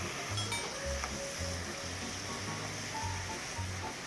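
Cucumber stir-frying in a pan with perilla oil, chili flakes and sliced red chili, giving a steady close sizzle with faint stirring and scraping, no talk.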